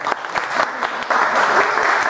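Seminar audience claps for Jorge in a steady, dense round of applause that swells slightly in its second half, close and alone without talk.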